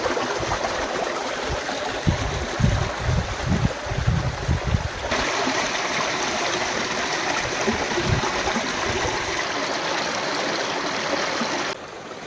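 Irrigation water gushing from a half-opened valve into a field channel on a mango farm, a continuous loud rushing and splashing flow, close up, with heavier churning surges early on.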